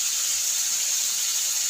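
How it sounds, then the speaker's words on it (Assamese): Mustard seeds, garlic, chili and turmeric frying in hot oil give a steady, bright sizzling hiss, close and unbroken, with no voices. "এতিয়া এইখিনি ৰঙচুৱা হোৱালৈ ভাজিম।"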